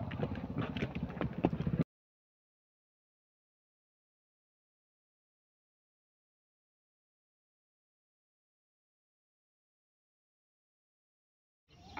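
Hooves of a pregnant mare ten months along, a brief burst of clopping steps that stops abruptly, followed by a long stretch of silence.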